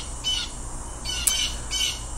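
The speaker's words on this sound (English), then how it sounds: "And the birds came to join us." Three harsh, high squawks ring out at roughly even intervals, fairly close, over a low background rumble with no talking.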